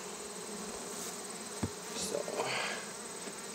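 Steady insect buzzing of many honey bees at an open hive fills the background, with a brief thump and some rustling handling noise partway through.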